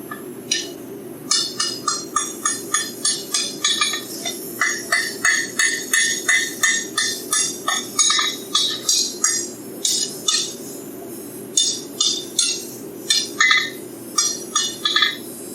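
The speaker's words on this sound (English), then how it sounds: "You can set it on your rounded edge of the anvil, tap it like that" A hammer taps metal held on the rounded edge of an anvil during blacksmith forging of a scroll wrench, making a rapid run of bright, ringing metallic clinks in quick even bursts with brief pauses between.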